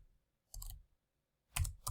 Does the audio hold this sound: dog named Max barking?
no